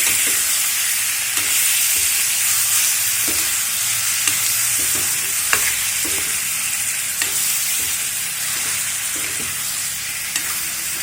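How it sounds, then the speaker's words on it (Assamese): Chicken frying in a pan gives off a loud, continuous sizzle, broken by soft repeated taps and scrapes from stirring, heard close up without voices. "চিকেনখিনি এতিয়া মই ফ্ৰাই কৰি ল'ম ভালকৈ"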